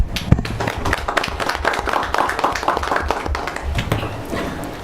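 Applause from an audience at a school board of education meeting, a steady patter of many hands clapping close by for several seconds with no talking.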